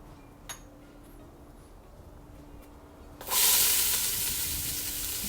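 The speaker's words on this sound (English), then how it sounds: "I'm going to go ahead and drop in 2 cups of diced onions." After a quiet stretch with a faint click, two cups of diced onions drop into olive oil in a pan and erupt into a loud, bright, steady sizzle that carries on to the end.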